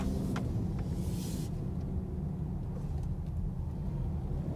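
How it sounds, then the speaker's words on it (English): Steady low engine rumble from inside a 2021 Ford Explorer Hybrid as its 3.3L gas engine restarts, with a brief soft hiss early on and no talking. "Gas engine kick back on."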